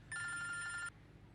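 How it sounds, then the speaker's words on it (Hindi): A landline telephone gives one short electronic ring, lasting under a second, in a quiet domestic room before falling silent. "मैं फोन उठा के देखूं? हो सकता है किसी ने जरूरी बात करनी हो।"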